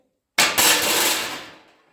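A hammer striking sheet metal against a dolly: a single sharp metallic strike followed by a second quick hit, ringing out and slowly fading, close and loud.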